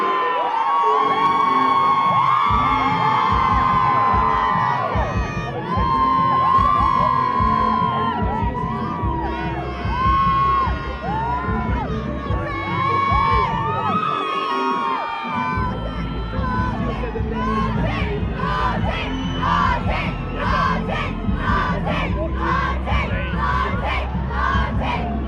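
A loud fight night crowd cheers, whoops and yells continuously as a fighter makes her entrance, with dense overlapping shouting and a steady low rumble underneath throughout.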